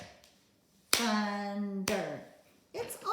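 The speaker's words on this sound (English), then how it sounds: "But let's clap out thunder." Two sharp single hand claps split a spoken word into syllables, spaced about a second apart, each ringing out briefly under a sustained speaking voice, with more talking following.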